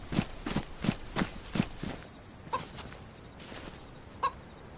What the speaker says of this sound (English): Oh, chicken.